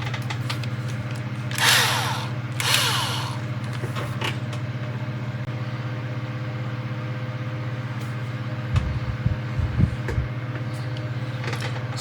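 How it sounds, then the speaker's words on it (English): A hole is drilled in a plastic AMT/ERTL Star Trek The Next Generation U.S.S. Enterprise fiber-optic model kit: two short, close grinding bursts early on, then a steady low hum and a few faint knocks. "we're going to drill a hole to pass the fiber optics through."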